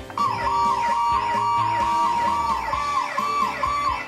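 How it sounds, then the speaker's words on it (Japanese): A toy police siren from a Seibu Keisatsu RS-1 model car wails in fast repeating up-and-down sweeps, loud and electronic, with a few faint clicks underneath. "サイレン音のボタンを押すと"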